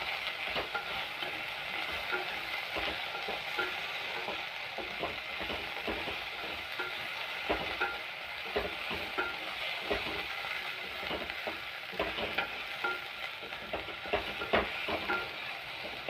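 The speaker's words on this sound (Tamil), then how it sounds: "ஈஸியாக வெண்டைக்காய் வதங்கிடும்." Okra (vendakkai) sautéing in a pan with a pinch of salt for a tamarind kuzhambu, a low steady sizzle broken by frequent scraping stirs of a spoon against the pan, with no talk.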